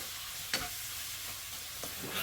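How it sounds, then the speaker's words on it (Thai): Shrimp and squid stir-fry with oyster sauce in a hot pan for a seafood curry-powder stir-fry, giving a steady close sizzle broken by a few clanking stirs of the spatula. "ขณะผัดกุ้งกับปลาหมึกก็ใส่ซอสหอยนางรมลงไปเล็กน้อยนะครับ"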